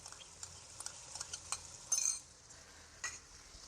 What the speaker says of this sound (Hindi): इसको अच्छी तरह से फ्राई करेंगे।